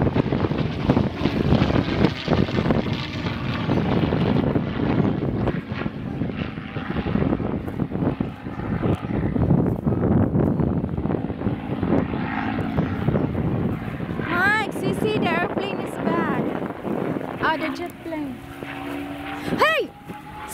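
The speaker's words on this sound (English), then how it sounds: "Mike, the airplane is here." An airplane at a Lakeland, Florida air show roars steadily through the whole passage, loud and broad-toned, while people talk nearby and a voice rises briefly over the engine noise toward the end.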